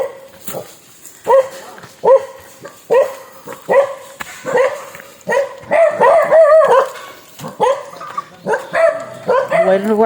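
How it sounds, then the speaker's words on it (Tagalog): Several dogs near houses in a mountain area bark in repeated bursts, close and loud, with yips and whimpers mixed in and occasional voices between barks. "may bahay dito, may mga aso."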